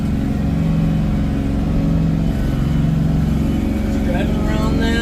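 A tractor powering a WoodMaxx FM-78H offset flail mower runs steadily, a loud continuous engine drone with a constant mechanical hum and a brief higher whine near the end.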